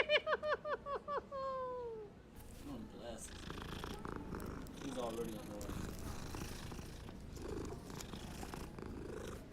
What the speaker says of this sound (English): Blast that little cat.